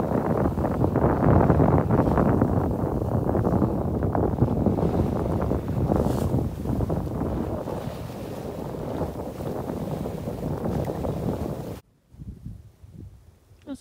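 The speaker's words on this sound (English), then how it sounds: "And the wind is just nice and it's offshore" Strong offshore wind buffets the microphone aboard a sailboat near Harbour Island, a loud, gusty roar with water wash that eases slightly midway, then cuts out abruptly near the end, leaving quiet with faint knocks.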